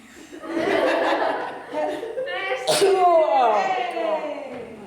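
A single sneeze bursts out in a classroom during a school lesson, sharp and close, set among voices talking before and after it.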